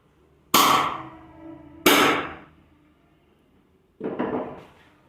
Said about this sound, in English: we will hold the poker here and we will hammer it